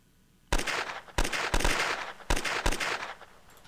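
Machine gun fire in the strategy war game Advanced Tactics Gold, heard as several loud bursts of rapid shots separated by brief pauses, fairly close and with no voices over it.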